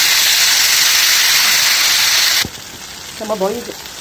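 Taro (arbi) curry with tamarind juice bubbles on the stove with a loud, even hiss for about two and a half seconds, then cuts off abruptly. A brief voice-like sound follows in the quiet.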